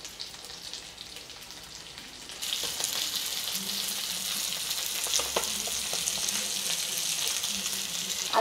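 Fish frying in oil in a pan, with a quiet background for the first couple of seconds before a loud, steady hissing sizzle sets in and carries on to the end with faint scraping.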